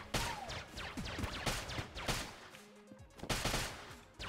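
Gunfire in the Enter the Gungeon video game: rapid, punchy shots burst repeatedly through the clip at close range, with a brief quieter gap near the middle before the firing resumes.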